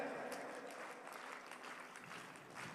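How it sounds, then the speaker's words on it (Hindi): An audience claps steadily throughout, a dense, even wash of many hands at a devotional gathering, sustained at a constant level with no voices standing out. "तो पहले तो उनके लिए जोरदार तालियां।"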